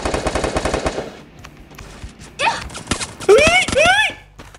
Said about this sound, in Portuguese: Nossa, tomei muito tiro.